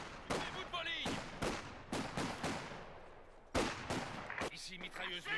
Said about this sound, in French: Ici mitrailleuse lourde.